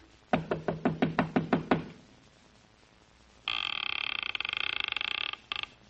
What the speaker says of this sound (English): I finally took a chance and knocked on a door.